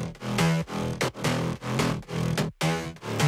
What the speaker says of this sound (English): just like a lot of like FM sort of synthy basses with like a lot of growliness